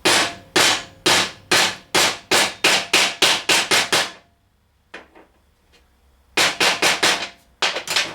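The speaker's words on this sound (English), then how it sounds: "So I'm driving it back in with a socket that is just a shy, smaller size than it." A socket is hammered against a part of a Toyota Tundra steering rack, giving a fast series of sharp, loud metallic strikes, a brief pause, then another quick burst of blows close by.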